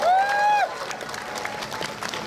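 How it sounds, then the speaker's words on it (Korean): Audience at a Korean campaign rally applauding a bicycle campaign team, a dense, steady wash of clapping that carries on throughout, with a brief raised voice calling out over it at the start. "박수 보내주십시오."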